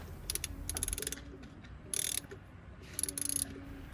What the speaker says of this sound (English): Let's go ahead and remove this drain bolt. We are going to need a 19 millimeter socket.